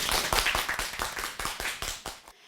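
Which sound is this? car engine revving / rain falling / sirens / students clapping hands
students clapping hands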